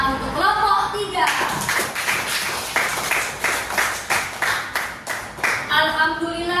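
A classroom of students applauds a presenting group, a burst of steady hand clapping lasting several seconds, with a voice speaking just before and after.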